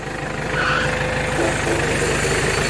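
An engine runs loud and close, holding a steady, throbbing low rumble with a slight rattle and no clear rise in revs.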